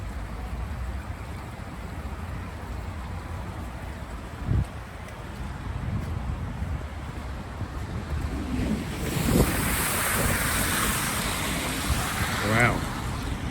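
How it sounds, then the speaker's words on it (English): Floodwater gushing out of street drains near a roundabout in Birmingham, a rough outdoor rush under wind buffeting that swells noticeably louder and brighter in the second half. "Water's pissing out the drains."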